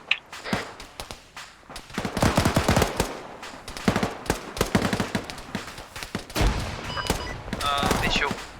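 Bursts of artillery and automatic gunfire crackle through a military video game training session, dense rattling volleys and scattered single shots at moderate distance, mixed with faint voices over radio chatter.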